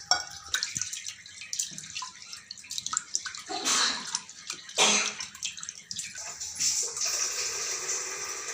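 Water runs and splashes while moong dal is rinsed in a kitchen, with uneven gushes and trickles, a couple of louder surges midway and a steadier stream toward the end.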